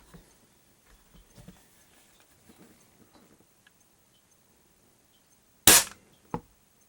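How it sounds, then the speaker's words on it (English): A Weihrauch HW55M match air rifle from 1969 fires a pellet at about 600 feet per second, one sharp loud crack near the end followed by a softer click, after quiet handling noises. "shooting right around 600 feet per second with presumably good pellets"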